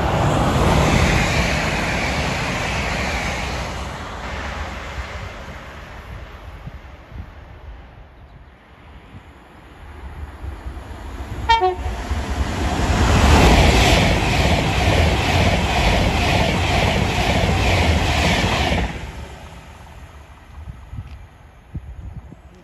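A Pendolino train passes through Polesworth station in Warwickshire, building from a quiet rumble to a loud, rushing, broadband swell that peaks for several seconds, then falls away to faint noise.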